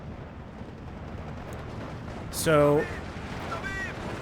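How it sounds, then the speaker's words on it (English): Artillery shells landing around a PaK 40 anti-tank gun in Steel Division 2, a muffled low rumble of impacts under distant battle noise, with a brief spoken word and some sharper tonal effects mid-way. "Friendly artillery landing on that PAC-40."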